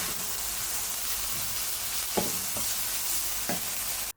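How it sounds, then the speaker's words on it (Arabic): Minced meat filling for samosas fries in a pan as spices are stirred in, a constant low sizzle broken by a few sharp scrapes of the spoon against the pan, close and without any voices. "بعد ما وصلت معايا للمرحلة دي هضيف البهارات، اقلب"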